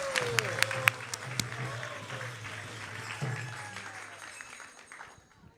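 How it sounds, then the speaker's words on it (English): A temple audience gives a round of applause at a Hare Krishna gathering, the clapping mixed with a voice and fading toward the end. "let's give a big round of applause to all of them"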